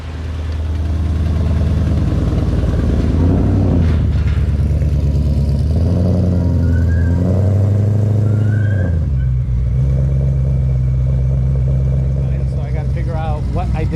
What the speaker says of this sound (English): as you can hear, the exhaust leak is pretty apparent